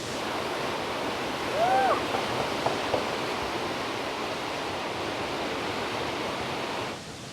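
A strong river current rushes at a surfing spot in Munich, a dense steady roar of water heard nearby, with a faint brief whistle-like sound partway through.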